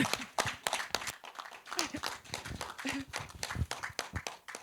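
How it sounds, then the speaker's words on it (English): Scattered applause from a small audience at a media launch for a 10th anniversary event, honouring a committee lead; uneven claps near and far with voices mixed in. "I really want you to give him hand of applause"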